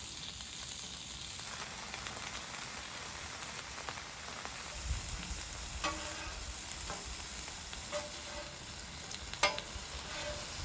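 Turkey slices warm on the cool side of a griddle, giving a steady close sizzle and hiss with a few soft scrapes and taps, no voices.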